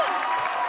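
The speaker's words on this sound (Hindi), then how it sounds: "सिद्धू जी के लिए जोरदार तालियां।" Studio audience applause and cheering on a comedy talk show, honouring Sidhu; a short, dense burst of clapping from a large crowd, steady and fairly loud throughout.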